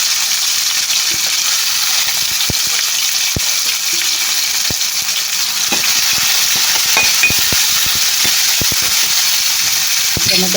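Dried red chilies and tomato pieces fry in hot oil for vegetable uppittu, giving a steady, loud, close sizzle throughout. A spoon stirs and scrapes the pan now and then, with soft clicks through the hiss.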